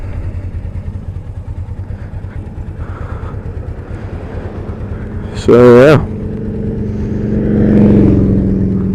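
A motorcycle engine drones close under a rider's talk, with a brief sharp rev and pitch sweep as a gear shifts partway through.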